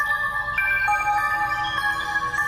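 A phone ringtone sounds in a horror video game, clear tonal notes that shift in pitch and repeat steadily over a low background hum, with no voices.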